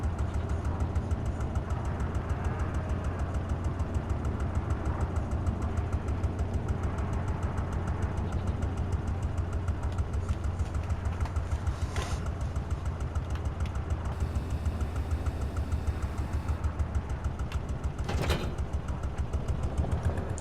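A tractor engine idles steadily in the farming game Farm Sim 25, a continuous low rumble with a fixed rhythmic throb holding at an even level throughout, with no speech over it.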